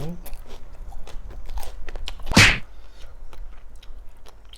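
One loud, close crunch of a bite into crispy Thai pork rinds, eaten alongside spicy seafood som tam, stands out between softer chewing and mouth sounds with murmured speech around it.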